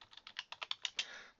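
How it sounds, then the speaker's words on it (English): A quick run of about eight crisp keystrokes on a computer keyboard, typed while entering a search term into a research database, evenly paced and fairly faint, with no voices. "I'm going to begin my search by typing in"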